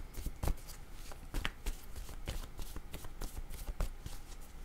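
Tarot cards being shuffled by hand, a rapid series of crisp riffling slaps and flutters repeating close to the microphone, with no talk over them.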